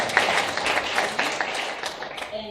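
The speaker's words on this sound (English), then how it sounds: "You can clap for yourself." A seated audience claps at a national moot court competition final in Kenya. The applause is moderate and fairly close, sparse enough that individual claps stand out, and it thins toward the end.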